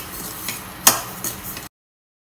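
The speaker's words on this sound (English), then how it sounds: "we have been dry roasting this over a medium flame for about 10 minutes now" Barnyard millet dry-roasts in a pan over a medium flame, giving a faint, steady rustling sizzle with one sharp tick of a utensil partway through, then silence.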